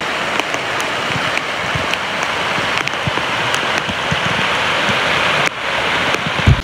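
Monsoon rain pours down steadily in Lonavala, with a dense continuous hiss and scattered close drips and splashes, loud and unbroken with no talk.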